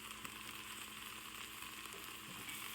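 Gumbo with white, cayenne and black pepper sizzles and fries steadily in a pot as it is stirred, a constant close crackle with no talking.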